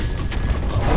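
A short explosion in the video game Angry Birds Star Wars 2, a dense crashing boom with rumbling low-end debris that persists loudly across the whole second.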